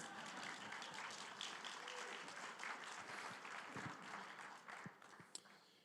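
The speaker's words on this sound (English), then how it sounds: "You can clap for them if you want to." A summit audience at a tribal health fireside chat claps for panel guests. The applause is faint and somewhat distant, with scattered individual claps as it tapers off near the end.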